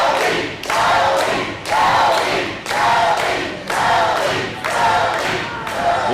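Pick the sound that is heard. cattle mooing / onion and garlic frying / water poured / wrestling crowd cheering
wrestling crowd cheering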